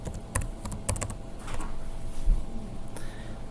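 Computer keyboard typing of a short word, a quick burst of several crisp key clicks up close, followed by quieter scattered taps and faint room noise.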